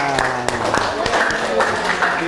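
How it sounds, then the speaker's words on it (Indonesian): A classroom of students claps after a presentation, brief scattered hand claps mixed with speech and voices close by. "Kasih tepuk tangan."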